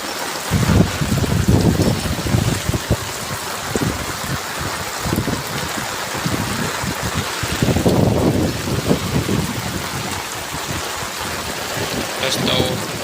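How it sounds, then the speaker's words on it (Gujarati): Heavy rain pours steadily over Siddhpur, a dense continuous hiss with wind buffeting the microphone and occasional low rumbles. "આ તમે જોઈ રહ્યા છો કે સિદ્ધપુરમાં પણ જોરદાર વરસાદ।"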